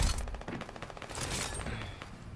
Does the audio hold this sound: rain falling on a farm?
no